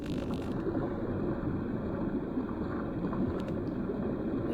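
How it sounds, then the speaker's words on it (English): Synthesized interactive water sound with a slight wind layer built in PureData, a dense continuous rushing wash at steady loudness with no pauses. "We still can hear some slight wind sound in this mode, but mostly the sound consists of the water sounds."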